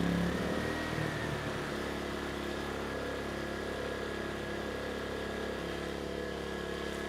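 An ERAYAK 4500W dual-fuel inverter generator runs steadily under load, its engine a constant close drone with a faint high whine and no pauses.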